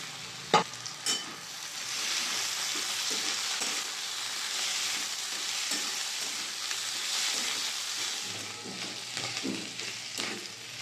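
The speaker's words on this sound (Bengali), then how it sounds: "সবজিগুলো সব ভাজা হয়ে গেছে।" Shredded cabbage and mixed vegetables with chopped ginger and garlic stir-fry for veg chowmein, a steady sizzle broken by a few sharp scraping clanks of a utensil stirring in the pan.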